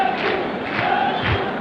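Spectators in a packed football stadium during a Uganda–Ethiopia CECAFA semi-final keep up a steady, broad roar of crowd noise, with a few louder swells rising out of the continuous din.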